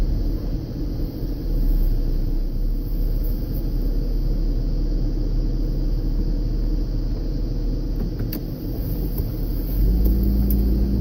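Steady low road rumble inside a moving car on a cold morning, an even engine and tyre drone throughout with no talking.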